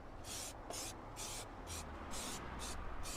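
Anti-rodent spray being applied to the wiring of an Audi car, a series of about eight short aerosol hisses in a quick irregular rhythm, close and fairly quiet over a low background rumble.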